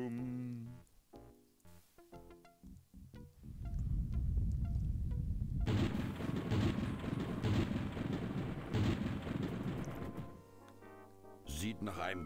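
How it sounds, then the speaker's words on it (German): A thunderstorm in the adventure game Day of the Tentacle: a heavy roar of rain and wind surges in and holds for several seconds before easing off, with brief voices and game sounds before and after. "Sieht nach einem großen Sturm aus."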